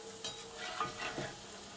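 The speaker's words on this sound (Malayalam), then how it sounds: "അപ്പോൾ നമുക്കിതിലേക്ക് അണ്ടിപ്പരിപ്പ് ഒന്നിട്ട് വറുത്തെടുക്കാം." Cashews and raisins fry in a pan for Kerala-style dum biryani. A soft, steady sizzle is broken by several brief scraping stirs of a spoon.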